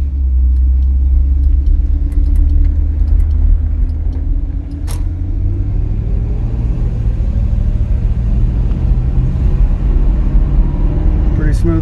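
A 1960 Cadillac Coupe Deville on its first drive in 15 years, its engine accelerating with a steady, loud low rumble and rising pitch as the car pulls away down the road.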